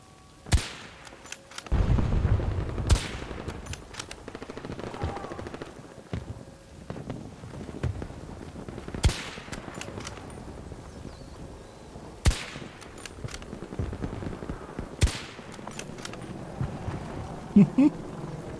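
Gunfire in the Battlefield 2042 video game: scattered sharp shots and heavier booms spread over the stretch, mixed with in-game ambience, while a player talks throughout.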